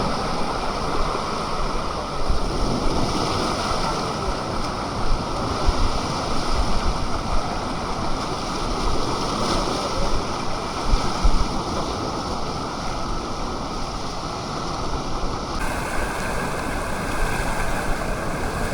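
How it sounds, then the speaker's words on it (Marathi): Strong sea waves roll in at high tide on a shoreline fishing outing, a continuous loud roar of surf mixed with gusty wind noise across the microphone, with no voices. "लाटा पण खूप जोरजोरामध्ये येत आहेत. पाण्याची भरती खूप जोरात वाढलेली आहे."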